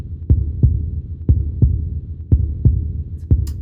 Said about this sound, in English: anytime you start a level before you move, there's a heartbeat with multiple panels being highlighted.